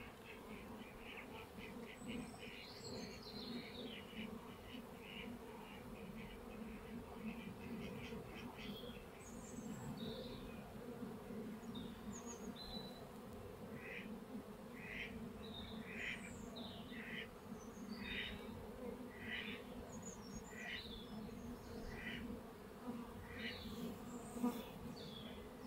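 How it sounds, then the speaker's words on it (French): Honeybees buzz around an apiary after a transfer into a Warre hive, a constant faint hum with many short chirping bursts scattered through it, outdoors and with no talking. "les abeilles elles vont se dispatcher à gauche et à droite"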